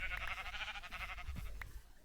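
Sheep in the video game Minecraft bleat in quick, wavering cries, several overlapping calls close up and loud with no talk over them.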